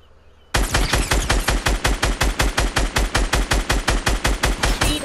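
Automatic gunfire from the video game Fortnite rattles in a rapid, loud, evenly spaced burst of about two dozen shots, bursting in after a brief quiet start and continuing without pause.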